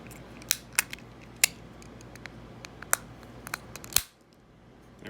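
The plastic case of a Lexus key fob snaps together in a series of sharp, close clicks, several spread over a few seconds, ending with one firmer snap before near silence.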